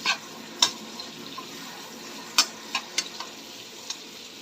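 Garlic and onion frying in butter in a pan and being stirred, a faint steady sizzle broken by sharp scattered clicks and scrapes of the utensil against the pan.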